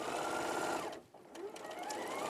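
A sewing machine runs steadily while topstitching around fabric, a continuous close whirring that dips into a brief pause just after the first second before resuming at full speed.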